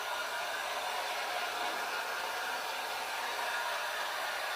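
Hair dryer blowing steadily to dry Mod Podge on a unicorn wreath, a constant close hiss of airflow with no talking.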